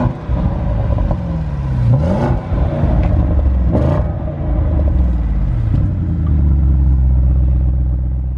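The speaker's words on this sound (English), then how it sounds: "I'll put it into dynamic and just give it a couple of revs" An Audi RSQ8 SUV's V8 engine idles in dynamic mode with a deep rumble, then revs sharply twice against a rev limiter, each rev climbing and falling back, close and loud with no talking.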